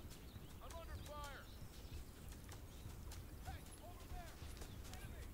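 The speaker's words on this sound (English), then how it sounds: "Come here, horse." Horse hooves clip-clop in the video game This Land Is My Land, a quick run of light hoof beats over a constant ambient background with bird calls.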